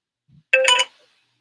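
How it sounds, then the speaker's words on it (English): Phone ringing with an incoming call, a single short bright electronic ring tone lasting under half a second, preceded by a faint low blip, close and clear against silence. "I'm sorry, phone call came."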